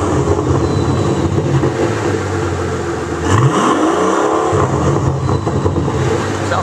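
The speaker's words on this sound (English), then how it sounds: "It's a twin turbo V12." A 2012 Mercedes-Benz SL65 twin-turbo V12 with Magnaflow mufflers and resonators roars at loud, steady idle, then blips sharply once, the revs sweeping up and falling back before the engine settles into its deep rumble again.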